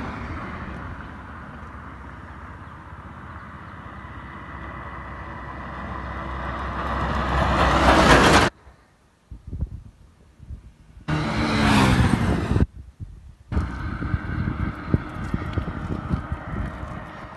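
Bajaj Platina 110 and Hero HF Deluxe motorcycles drag racing, small engines droning and building loudly to a peak, then cutting out to near silence, followed by another brief loud pass and renewed engine noise at a distance.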